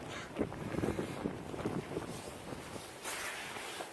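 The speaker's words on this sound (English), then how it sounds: "As you can see, the wind's really picking it up, blowing it around." Strong wind gusts buffet a tarp cover over an icy outdoor framing and roofing job, a steady broadband roar with flapping bursts and a louder gust near the end, with no talk.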